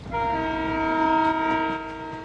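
A train horn blares in one long, steady tone, loud and close, over the rumble of the moving train.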